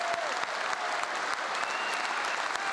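A whole hall of people applauds together, producing a dense, steady wash of clapping that lasts the full clip without pause.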